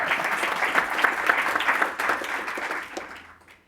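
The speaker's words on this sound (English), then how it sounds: "A round of applause." An audience at a healthcare event breaks into applause, a dense round of clapping that holds steady and then fades out near the end.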